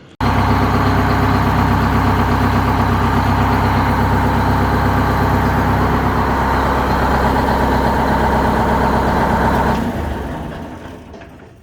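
A Clark Michigan 125A wheel loader's engine runs steadily at idle, a loud, deep, continuous diesel rumble that holds even for about ten seconds before dropping away as it shuts down.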